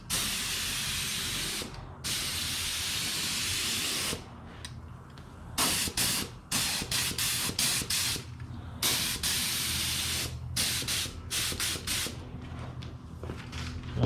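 A spray gun lays a light paint coat on a Cobra Daytona chassis in a series of hissing bursts, first long continuous passes, then short rapid triggers separated by brief pauses, close and fairly loud.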